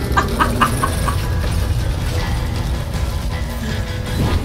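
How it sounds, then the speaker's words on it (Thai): Chickens cluck in the video game Minecraft: Story Mode, a quick run of sharp clucks early on, then game noise and clatter. "โอ้ไก่ไก่เต็มเลยครับ"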